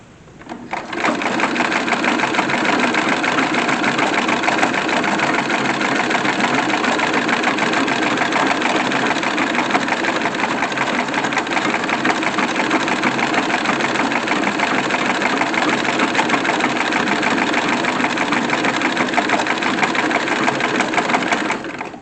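A sewing machine runs without pause, stitching small tucks on underdrawers, its fast steady mechanical whir close and loud throughout with only a short start and stop at the edges and no talk.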